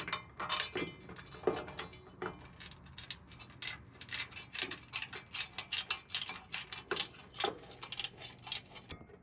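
A wrench ratcheting rock slider mount bolts on an Ineos Grenadier, quiet and close, with a long series of quick clicking strokes, some slower and heavier, others in rapid, even runs.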